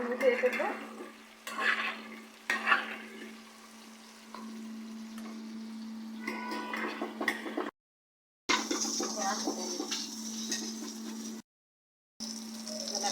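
Prawns fry lightly in oil in a pan with a soft, steady sizzle and occasional stirring scrapes, faint and continuous, broken by two short silent gaps.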